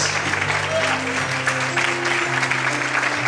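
A church congregation applauds during a worship service, steady clapping mixed with sustained keyboard or organ tones and voices in the room.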